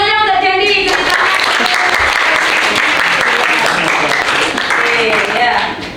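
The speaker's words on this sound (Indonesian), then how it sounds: "Tepuk tangannya untuk Dendi" A classroom of children claps loudly and continuously for their classmate Dendi, a thick, even wash of applause that holds steady before tapering slightly at the end, with no talking.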